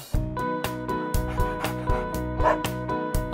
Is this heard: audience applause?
no